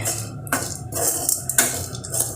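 A utensil scrapes and clinks against a cooking pan of mint leaves in quick, irregular strokes with the stove off, close and fairly soft, with no voices.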